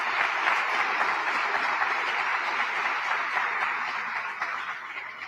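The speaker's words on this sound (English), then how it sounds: "Give her a round of applause." An audience applauds Governor Kathy Hochul at a community event, a steady, even wash of clapping that holds at full strength for several seconds, then tapers slightly at the end.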